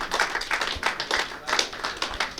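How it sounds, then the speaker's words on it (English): Audience applause and clapping after a pool final at the IPA Pool Open in Brighton, steady rapid claps from a crowd filling the room, moderately loud throughout. "both players deserve a round of applause."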